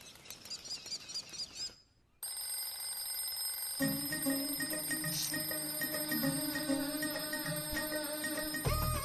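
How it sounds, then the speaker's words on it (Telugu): An alarm rings in a bedroom at morning, a steady electronic ringing tone that continues loudly for several seconds after a brief gap. "ముందా అలారం ఆపు"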